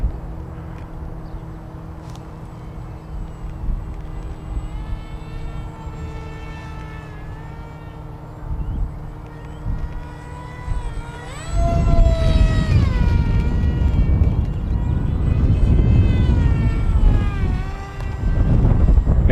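A Durafly Tomahawk FPV wing flies in abrupt, gusty wind. A steady electric motor whine wavers in pitch, then loud rumbling wind buffeting takes over for the last third.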